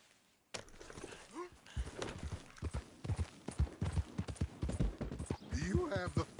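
A horse's hooves clip-clop at a walk in Red Dead Redemption 2, an irregular stream of close thuds, with spoken dialogue layered over them.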